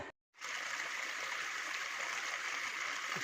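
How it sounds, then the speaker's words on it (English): Camp Creek flows steadily along a mountain walking track, a close, constant trickling and gurgling rush of water that continues unbroken after a brief silent gap at the start. "Just getting water at Camp Creek."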